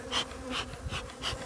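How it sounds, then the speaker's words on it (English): Honey bees buzzing around an open hive box during heather honey collection, a soft steady drone with individual bees swelling louder as they pass near, no talking. "Saves crushing bees."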